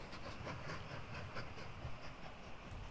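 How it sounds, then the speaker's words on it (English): A coal train rolls along in the railway video game Mashinky, a steady rumbling clatter with rhythmic clicking of wheels on track, moderately loud and without talk. "I think we have a coal train coming out"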